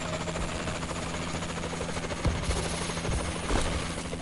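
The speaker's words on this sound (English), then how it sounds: "Friendly warbird in the air." A friendly warbird aircraft flies overhead in a video game as a continuous droning engine, with a few sharp, punchy bursts cutting through the drone.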